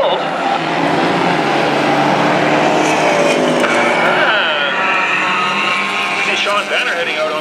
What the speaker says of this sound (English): looks like our pace car heading out on the course